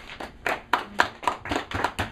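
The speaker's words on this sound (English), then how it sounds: "There was an awkward smattering of applause." A small, sparse scattering of hand claps from a handful of people, roughly eight distinct claps spaced unevenly over two seconds, close and thin rather than a full ovation.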